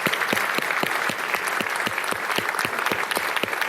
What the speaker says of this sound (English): Why don't we give Darryl and Nancy a round of applause?